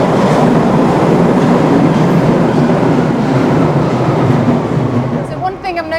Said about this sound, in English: Oh, well, better wave at the train.